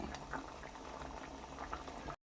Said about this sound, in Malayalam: നമുക്കിതിലേക്ക് കറിവേപ്പിലോട് ഇട്ടിട്ട് ഒന്നും കൂടെ തിളപ്പിക്കും